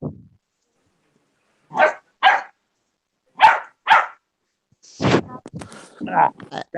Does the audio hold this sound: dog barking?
yes